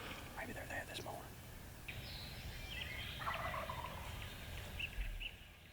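A distant wild turkey gobble rings out over a quiet dawn background in Ohio, with faint bird calls and soft rustling around it.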